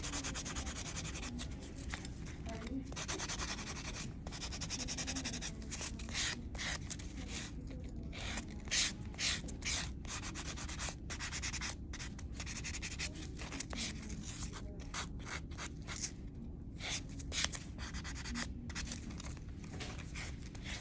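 A buffing block rubs back and forth across a plastic nail tip in soft, rapid scratchy strokes, faint and close, repeating steadily with short pauses.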